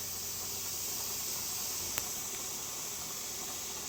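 Steam vents from a pressure canner full of green beans in a steady, even hiss that holds at the same level throughout, with no talking.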